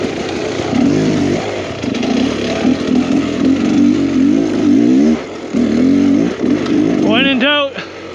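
Enduro motorcycle engine revving on a trail, loud and close, with repeated throttle blips rising and falling, people talking and exclaiming alongside.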